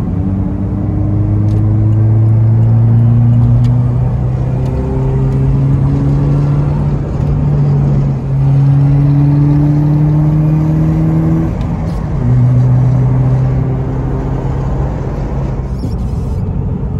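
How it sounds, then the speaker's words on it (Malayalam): A Subaru Forester's naturally aspirated 120 PS boxer engine revs repeatedly, rising and falling in several long pulls, loud and close with no talking. "ഈ ഒരു സൗണ്ട് വണ്ടിയുടെ ചുമ അടിപൊളിയാണ്"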